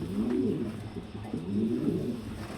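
A pigeon being handled coos repeatedly in low, rolling phrases, close and clear, over a quiet background.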